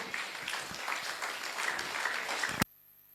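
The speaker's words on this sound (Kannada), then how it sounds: "ಚಪ್ಪಾಳೆ ಮೂಲಕ ಅವರನ್ನು ವೆಲ್ಕಮ್ ಮಾಡೋಣ." Audience applause welcoming a guest at a live program in Belgaum, a steady dense wash of clapping that runs for over two seconds and then cuts off abruptly into near silence.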